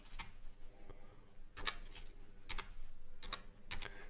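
Fingers typing a chord name into music software on a computer keyboard: a few scattered, faint, sharp key clicks in short bursts against a quiet room.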